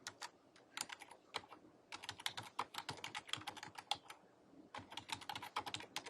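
Fingers type on a computer keyboard in quick, uneven bursts of crisp key clicks, pausing briefly between words, close and fairly quiet with no voice.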